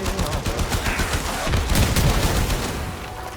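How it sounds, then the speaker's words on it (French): Rapid gunfire from the shooter video game Warframe, dense overlapping bursts of shots and impacts sounding continuously and loudly throughout amid heavy combat with many enemies. "Je tire sur un truc mais il prend pas de dégâts."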